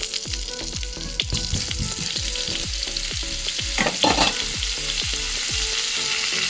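Tomato and cauliflower frying in a pan for a shrimp vorta, a loud continuous sizzle broken by repeated scraping stirs of a spatula, with a brief louder burst partway through.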